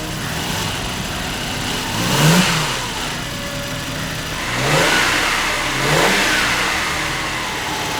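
A BMW 320i E30 engine revved freely in a few separate blips, each rising and falling back to a steady idle, close and fairly loud with no talk.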